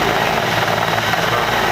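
A helicopter at an air show sounds as a loud, steady, wideband rotor and engine roar with no break or fade.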